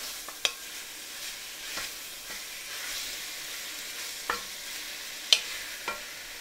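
Ground beef browns in a pan with a soft, continuous sizzle, broken by a few sharp clicks and taps of a utensil stirring the meat.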